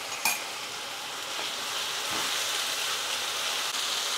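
Ginger garlic paste frying in a pan with onion paste for a dhaba-style paneer curry, giving a steady close sizzle with faint stirring scrapes throughout and no talking.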